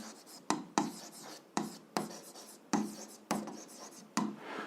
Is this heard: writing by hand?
yes